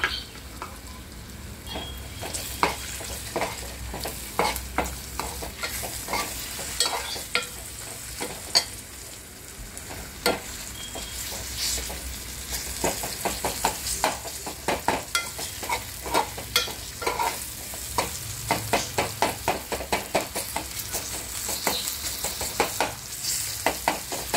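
Tomatoes go into a frying liver (kaleji) masala, which sizzles loudly while a spatula scrapes and knocks against the pan in a brisk, repeated stirring rhythm, close up and without speech.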